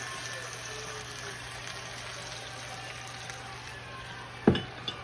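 Hamburger patties frying in cooking oil, a steady low sizzle with a constant hum beneath it and a brief clunk near the end.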